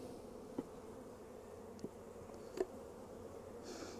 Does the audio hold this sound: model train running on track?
no